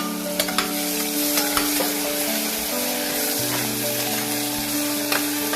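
Peanuts, onion and potatoes frying for a tuvar dal khichdi with whole garlic, giving a loud, steady close sizzle with light scrapes and taps as they are stirred.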